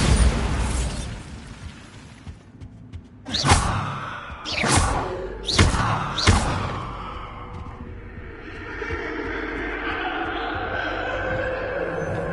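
Bombarda blasting spells in a Harry Potter–style video game: four sharp explosive bursts in quick succession, loud and close, followed by a lingering rumbling, crackling tail with no speech.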